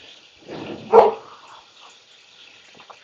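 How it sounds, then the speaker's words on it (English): A dog gives a short yelping bark with a few softer whimpering yips around it, fairly close by in an otherwise quiet indoor space. "Even the dogs are cheering me on."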